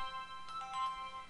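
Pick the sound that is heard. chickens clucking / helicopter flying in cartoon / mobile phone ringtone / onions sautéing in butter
mobile phone ringtone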